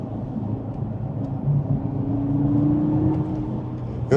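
An Audi TT RS Iconic Edition engine hums low and close, its drone rising slightly in pitch midway and holding steady to the end.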